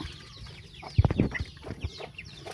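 Chickens cluck in a short burst of low, choppy calls, with fainter chirps from growing chicks around them in a backyard setting, fairly close and without talk.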